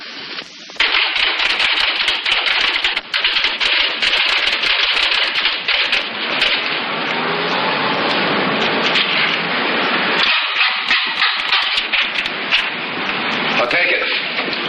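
Rapid continuous clatter of an electric typewriter, dense machine-gun-like key strikes running loud and close for most of the stretch, with short pauses near the start and around the ten-second mark.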